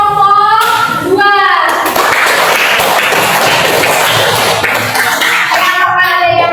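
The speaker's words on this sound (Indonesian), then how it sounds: "tepuk tangan untuk kelompok 2." A school class claps for a student group, loud close burst of hands clapping that swells and fades over a few seconds, with children's voices heard at the start and end.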